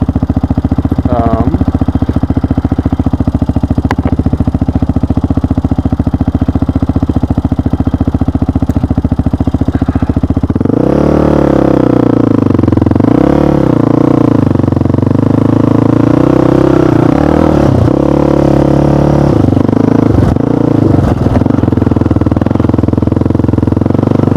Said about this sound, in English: so this engine is really healthy